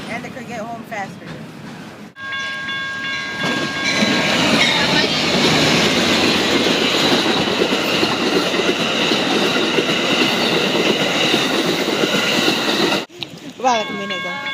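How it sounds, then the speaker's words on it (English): A long train rolls past a railroad crossing, a loud, sustained rumble and rattle with squealing wheels lasting around ten seconds; brief talking is heard just before and after it. "This train really drags."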